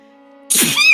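A single close, loud sneeze bursts out suddenly over a faint steady tonal hum, in the video game Bayonetta Origins: Cereza and the Lost Demon.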